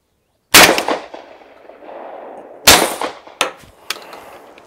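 Shotgun fired through a Salvo 12 suppressor with hand-loaded Lyman 525-grain cast lead slugs: two loud, sharp reports about two seconds apart, each trailing into a rumbling decay, followed by a few quieter clanks or pops.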